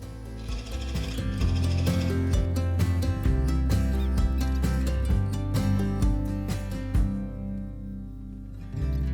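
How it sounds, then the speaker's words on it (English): Sharp gouge cutting a wooden spinning top on a spinning lathe, a steady loud mechanical whir with scraping and ticking cuts running throughout, fading near the end as the tool lifts away. "I've made sure that the gouge is nice and sharp for this, and I'm just going to tickle my way down."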